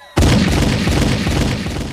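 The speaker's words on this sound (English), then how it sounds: "Early gunshots." A gunshot sound effect opens a podcast with one loud, sudden blast that carries into a sustained rumbling tail, heard alone.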